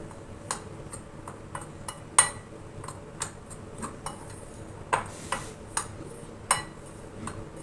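A spoon taps and clicks against a bowl in a steady series of light strikes while milk powder is worked together with ghee and beaten egg for rasmalai dough.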